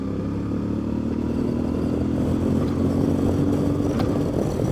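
A CFmoto MT450 motorcycle cruises on a highway, its steady engine drone and rushing wind filling a continuous, loud, close-up roar with no talking.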